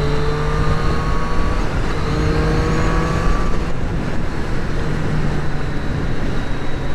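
A Triumph Street Triple RS motorcycle engine drones loud and close while riding, its pitch climbing through several rising revs over a constant rush of wind, with no talking.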